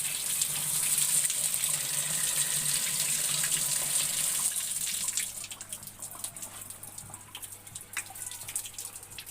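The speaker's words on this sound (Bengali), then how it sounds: "জল দেওয়ার জন্য জল ঘুরাচ্ছে" Water running from a tap in a village home bathroom, a loud steady hissing gush that eases after about five seconds into a softer trickle with splashes and drips.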